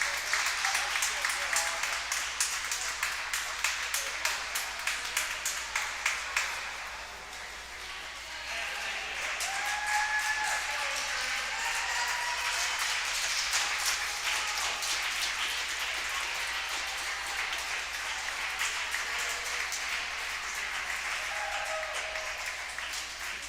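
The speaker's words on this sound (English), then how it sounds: "See if we can get the crowd behind Chelsea here in lane number 3." Crowd applause and clapping fill an indoor pool during a 200-yard freestyle swim race, sustained and steady, with a brief dip partway, while an announcer talks over it.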